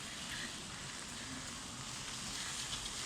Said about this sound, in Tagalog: Na umuulan.